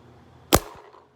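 A single sharp crack of a paintball marker firing through a chronograph, brief and close, followed by a quick fade in a quiet space.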